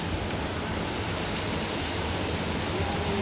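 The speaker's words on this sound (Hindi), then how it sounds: "बारिश हुई है।" Steady rain in Houston pours as a dense, even hiss that fills the whole stretch, constant and close with no voices over it.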